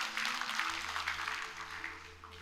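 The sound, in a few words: congregation applause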